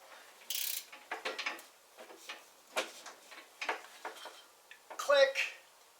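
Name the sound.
torque wrench clicking while torquing riding mower bolts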